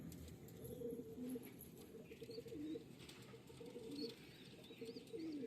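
Pigeons for sale coo in soft, repeated low burbling calls, several birds close by, with faint chirps and light rustling in the background.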